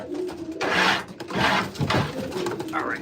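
Pigeons in a loft give a few soft, throaty coos in three swelling bursts, close by, with a faint rustle between them.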